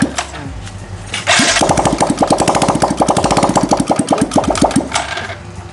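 Yamaha Jupiter motorcycle engine cranks and starts, then runs with a loud, rapid, evenly pulsing putter close by, rear wheel held still.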